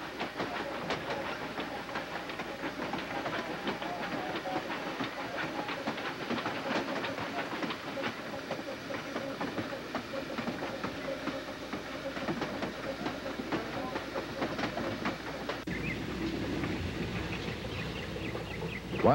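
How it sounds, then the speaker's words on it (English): A steam locomotive of the ET&WNC (Tweetsie) narrow-gauge railroad runs steadily, with a continuous dense rumble and rhythmic clatter of cars throughout, shifting in tone near the end as it eases into a station. "the locomotive eases into Cranberry"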